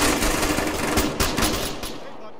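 Rapid automatic gunfire from a squad-based shooter video game rattles in dense, loud bursts throughout, with excited players' voices faintly mixed in.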